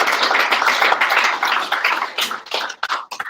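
Audience applause for Tony and Francis at a First National Rochedale event, a dense, sustained wash of many hands clapping that thins toward the end into scattered, uneven claps.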